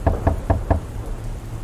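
Four evenly spaced, solid knocks on a door sound close and loud against a steady hiss of rain, then only the rain continues.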